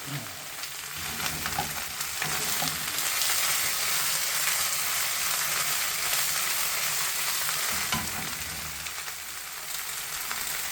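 Chunks of beef browning in a crowded pan for stew, a steady dense sizzle and crackle of frying meat close up, continuous with occasional stirring noises and no talking.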